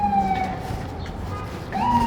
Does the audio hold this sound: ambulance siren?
yes